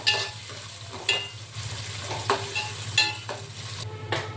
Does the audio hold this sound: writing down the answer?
no